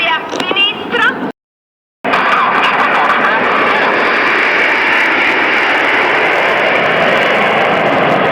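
Loud, steady roar of nine aircraft engines in air show formation passing close overhead at Lignano beach, Italy, sustained after a brief cut, with a voice speaking briefly in Italian at the start.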